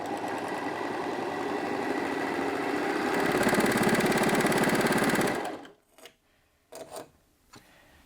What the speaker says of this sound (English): So I'm just going to go ahead now and sew the 2-thread overlocking stitch using the left